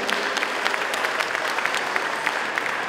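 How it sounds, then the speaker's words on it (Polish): An audience at a Christmas carol concert in the Stara Kopalnia venue applauds steadily. Dense, even clapping fills the room, with a faint voice or two underneath. "Brawa dla naszych przystojniaków."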